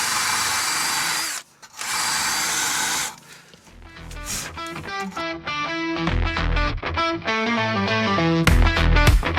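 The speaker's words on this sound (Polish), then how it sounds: "Wziąłem sobie wkrętareczkę z takim włosiem." Cordless screwdriver fitted with a bristle brush whirring and grinding while it cleans brake caliper guide pins during a brake pad change, close and loud, its pitch rising and falling with short stops between runs.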